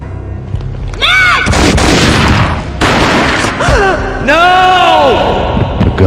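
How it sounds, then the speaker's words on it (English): Loud booming gunfire from the mobile game Max Payne, with heavy blasts and a crowd-like roar layered under swelling dramatic music throughout. "A gunshot boomed and she fell down in slow motion."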